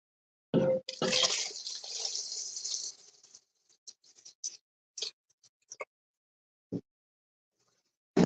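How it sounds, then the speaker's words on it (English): Water pours into a pot for a shrimp boil, a loud splashing rush for about two seconds that tapers off, followed by scattered drips and small clinks in near silence. "add water, and I probably should have told you how much water that was."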